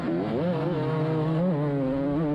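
Two 250cc two-stroke motorcycles race uphill, their engines howling close and loud with a rising, warbling pitch as the riders work through the gears, steady and unbroken with no talk.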